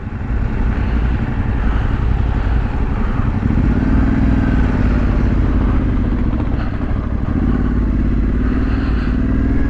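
An adventure motorcycle on a national park trail in the moors, with a loud, steady engine drone close by, rising and falling with the throttle over rough ground, alone and without talk.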